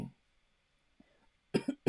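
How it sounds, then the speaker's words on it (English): A quiet room gives way to a short burst of coughing near the end, two or three close, sharp coughs after a faint throat sound. "like it hurts to even cough"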